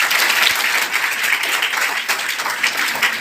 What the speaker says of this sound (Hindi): उन टीचर्स के लिए ताली बजाओ जो बताते हैं।